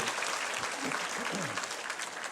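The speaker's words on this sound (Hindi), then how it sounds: "जरा जोरदार तालियों से उनको भी धन्यवाद हम सब लोग व्यक्त करेंगे" Audience applause at a public award event in Mumbai, dense continuous clapping throughout with faint voices beneath.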